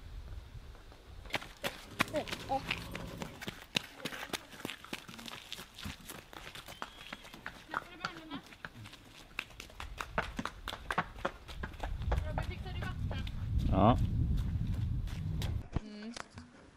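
Hooves clip-clop at a walking pace on a hard floor, the steps irregular and close, with some rustling and a voice speaking near the end.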